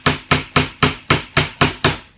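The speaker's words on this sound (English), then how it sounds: "I have a hammer, and I'm just going to pound them down the rest of the way" A hammer pounds staples into a wooden canvas frame: eight sharp, evenly spaced blows about a quarter second apart, loud and close with short ringing decay, no talking.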